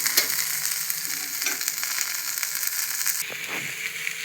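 Food frying in a pan just before grated coconut and coriander are added, a steady close sizzle with broadband crackle running throughout, a few light stirring scrapes, and no talking.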